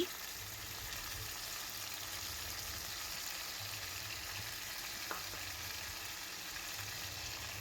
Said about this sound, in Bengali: এবার আমি হালকা বাদামি করে ভাজার পর আলু কুচিগুলো দিয়ে দিচ্ছি